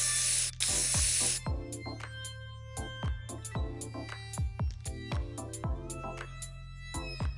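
Yellow spray paint hisses from an aerosol can onto an empty cosmetic cream jar in one steady burst of about a second, followed by a series of light taps and clicks.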